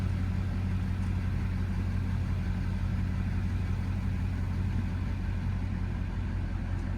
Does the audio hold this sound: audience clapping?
no